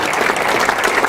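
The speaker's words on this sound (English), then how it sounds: "Let's give her another round of applause." An audience claps steadily in a dense, continuous burst of applause, loud and close, with no voices over it.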